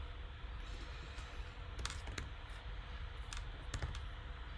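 Typing on a computer keyboard while writing script code for a Unity3D third-person shooter game: sparse, crisp keystrokes and clicks scattered over a steady low room hum, with no talking.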